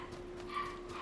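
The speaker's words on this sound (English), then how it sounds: "Puppy's going nuts." Puppy barking excitedly indoors, a few short, faint yips and whimpers over a low steady hum.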